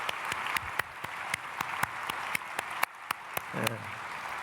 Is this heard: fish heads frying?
no